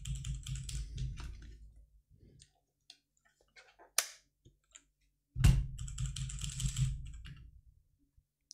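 Bursts of rapid clicky typing on a Redragon computer keyboard, close and crisp, separated by a quiet stretch with a few isolated key taps and a sharp knock.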